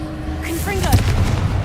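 A Confringo fire spell explodes in Hogwarts Legacy: a sharp blast with whistling, sweeping magical tones, then a sustained rumbling crackle at moderate loudness.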